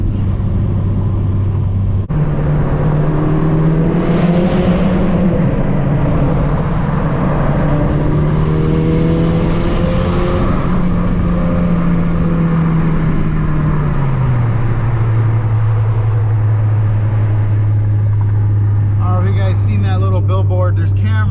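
A big-turbo Volkswagen GTI cruises on a freeway at night, its engine a steady loud drone inside the cabin that drops in pitch as it downshifts, with a voice talking over it.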